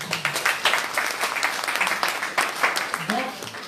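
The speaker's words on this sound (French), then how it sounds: "On applaudit." Audience applause rises and falls through a continuous wash of clapping, with voices mixed in and brief low tones under the noise.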